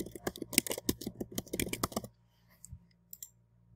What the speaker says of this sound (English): let's try to type in a wrong answer